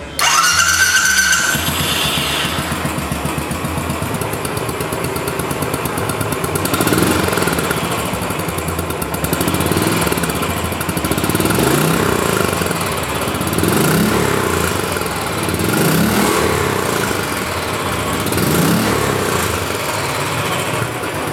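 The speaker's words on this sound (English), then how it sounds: "that thumping single-cylinder engine" A Royal Enfield single-cylinder motorcycle engine runs loud and close, a deep rhythmic thumping that revs up and down throughout, with no voices.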